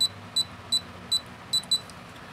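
A La Gard 39E safe lock keypad gives six short, sharp, evenly spaced beeps as the zero key is pressed repeatedly, each tone clear and close against quiet background.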